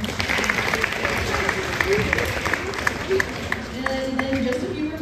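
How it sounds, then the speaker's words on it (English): Audience applause at a talent show fills the whole stretch as a steady, dense wash of clapping, with people talking over it. "if we could get a round of applause for them too"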